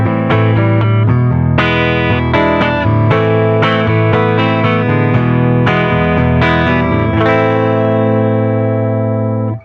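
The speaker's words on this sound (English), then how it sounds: "I'm playing a 73 Gibson ES335 through a 1966 Fender Princeton Reverb." A 1973 Gibson ES-335 electric guitar played through a 1966 Fender Princeton Reverb amp, heard clean with no pedal: a run of loud, ringing chords and single notes that sustain and then end in a short fade.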